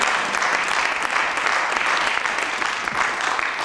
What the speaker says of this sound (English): Give a clap over to the Lord.